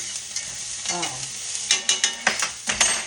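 Eggs for an omelette cook in a pan, a soft sizzle under a series of sharp scraping and stirring knocks against the pan, close and with no talk.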